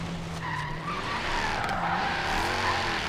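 A speed bonus car driven in the racing game Forza Horizon 3, its engine droning steadily while tires skid and squeal throughout, loud and continuous with no talking.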